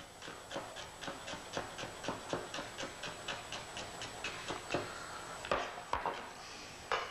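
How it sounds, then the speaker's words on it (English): A knife cutting a vegetable into thin matchstick strips on a board, quick regular crisp taps in a steady rhythm, close up, slowing into a few heavier chops at the end. "we need to julienne it, or cut it very fine like this"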